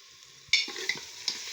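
Goat meat soup being stirred in a pot, with a few distinct scraping clinks of the spoon against the pot over a soft simmering sizzle, close and fairly loud.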